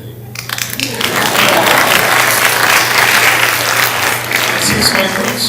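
An audience bursts into applause at a talk, building quickly from quiet into loud, sustained clapping that holds for several seconds before easing slightly.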